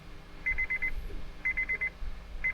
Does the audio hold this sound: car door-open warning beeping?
yes